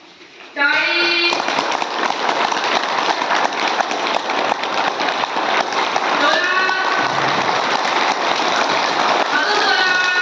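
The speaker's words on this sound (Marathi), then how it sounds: "टाळी." A group at an outdoor yoga camp claps hands in a dense, sustained rush of rapid clapping that begins abruptly and continues loudly, while an instructor's voice calls out over it.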